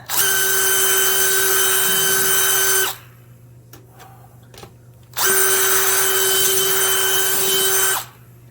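A power drill grinds loudly through a stainless steel trailer hitch receiver lock and its anti-drill plate in two long sustained bursts with a steady high whine, separated by a few seconds of quiet with faint clicks.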